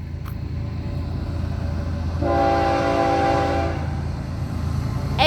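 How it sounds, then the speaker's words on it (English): An FEC rock train rolls through Cocoa with a steady low rumble of wagons, and its horn sounds one sustained chord-like blast for about a second and a half, fairly near, with no talk. "looks like a rock train from what I can see."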